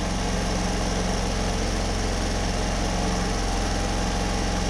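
A Homelite HG600 portable generator's small engine runs at a constant, steady drone close by, a buzzing hum with no change in pace throughout.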